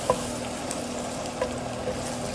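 Okra, bitter gourd and squash sizzle steadily in olive oil in a hot pan, with an even, continuous frying hiss and a few soft stirring clicks.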